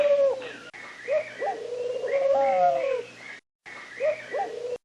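A pigeon coos in repeated soft, rounded calls at moderate distance. The phrases come in a steady, rhythmic series with one short silent gap.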